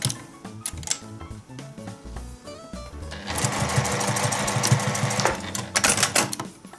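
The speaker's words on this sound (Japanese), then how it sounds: "これで、端から5ミリのところを仮縫いします。" A sewing machine bastes dog clothing fabric 5 mm from the edge. Its motor chatters in a rapid, even run that starts with a few short stitches, then holds a loud, continuous stretch close by.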